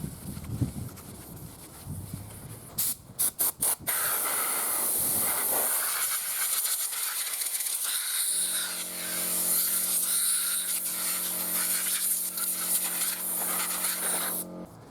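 Non-oil contact cleaner sprays onto a flywheel in long, close, loud hissing bursts, preceded by a few short rapid spurts, with a faint tonal hum running underneath the later spray.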